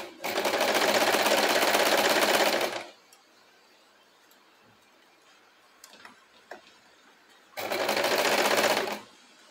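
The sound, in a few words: sewing machine stitching fabric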